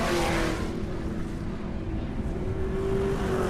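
Off-road race truck engine at full throttle on the final lap at Bark River International Raceway, a loud, steady roar with a sustained droning pitch held throughout, close and continuous with no break.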